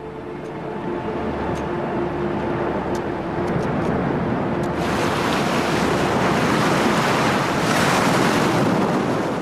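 Surging water of the Severn bore, a tidal wave pushing up the River Severn, roars as a continuous broadband wash that grows louder and more turbulent midway, with wind buffeting the microphone and no voices.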